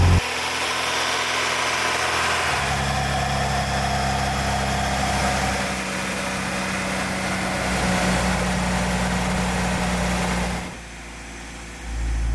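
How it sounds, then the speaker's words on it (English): A project car engine idles steadily after a cold start in winter, a continuous low rumble with mild vibration that holds even throughout, then drops off sharply near the end. "I'm gonna let this idle for a little bit and make sure it's not leaking."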